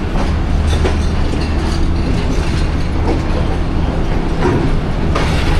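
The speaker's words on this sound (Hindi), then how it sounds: "रावल एक्सप्रेस पहुंच गई है रावलपिंडी रेलवे स्टेशन के प्लेटफार्म नंबर 5 पे।" The Rawal Express, on its Lahore to Rawalpindi run, rolls into Rawalpindi railway station with a continuous low rumble and faint clacking of wheels, heard close from on board without a break.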